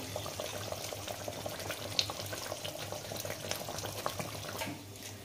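Mustard oil drizzled over koi fish curry frying in a pan, a continuous bubbling sizzle at an even level, with a couple of faint clicks and a slight drop at the very end.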